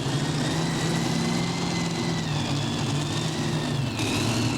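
Super modified pulling tractor with a three-engine combination running at a pull, a steady droning engine roar with sustained tones, loud and continuous without breaks.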